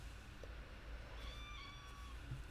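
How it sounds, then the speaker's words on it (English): A little kitten gives a few faint, high meows over a steady low background hum, with no one talking. "And talking of cats, a little kitten has arrived."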